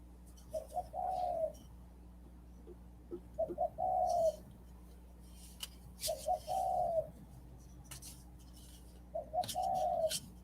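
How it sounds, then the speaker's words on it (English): Doves coo outside in four soft, repeated phrases spaced a few seconds apart, fairly faint and distant over a steady low background hum. "Sounds like you have some doves out there."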